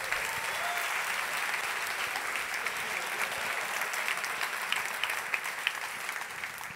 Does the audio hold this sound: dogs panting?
no